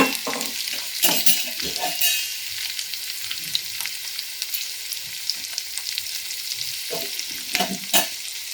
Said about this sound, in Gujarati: લીમડો અને તલ એડ કરી દઈશું.